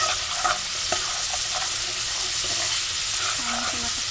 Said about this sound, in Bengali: মরিচের গুঁড়া দিলাম,